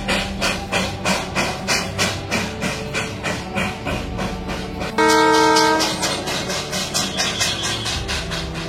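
A Darjeeling train pulls into a station with a steady rhythmic chugging clatter of wheels and cars, loud and close, broken midway by a sustained horn blast.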